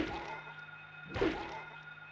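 A single dull thudding kick lands on a downed monster in Silent Hill, heard midway through a quiet, murky stretch of low game ambience.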